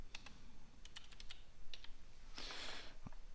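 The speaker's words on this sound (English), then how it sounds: "You can just type in there" Quick clicks on a computer keyboard in uneven bursts, a short pause, then a longer rushing keystroke run near the end, close-miked and fairly quiet with no one speaking.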